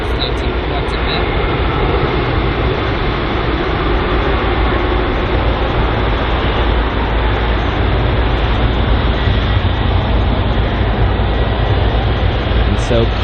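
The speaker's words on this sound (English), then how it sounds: "Sounds are just spectacular, especially hearing bigger aircraft like the 777." Large aircraft such as a Boeing 777 at London Heathrow airport, a loud sustained jet engine roar with a deep low-frequency rumble that holds steady across the whole stretch.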